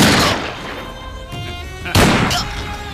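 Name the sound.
gunshots in film scene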